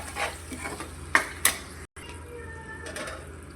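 Salt, coriander powder, garam masala and cumin powder are stirred into a pan for a simple raw prawn and egg curry, giving a run of close scraping stirs with a couple of sharp utensil knocks against the pan and a faint sizzle.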